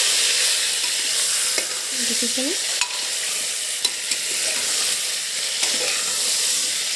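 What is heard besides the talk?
goat meat frying and stirred in pressure cooker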